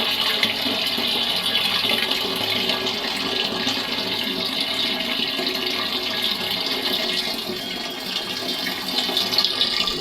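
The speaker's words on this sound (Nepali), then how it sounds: "यहाँ चाहिँ धारा आउने गर्छ" Water gushes from a village tap fed by a hillside tank, a loud, constant rushing stream heard close up for the whole stretch with no voices.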